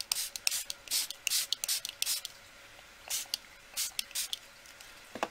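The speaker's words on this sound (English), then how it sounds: "I'm going to spray it with a bit of water" Water from a hand spray bottle misted onto a mixed media altered box: a quick series of short, close hissing spritzes, sometimes in pairs, with brief pauses between them and no talk.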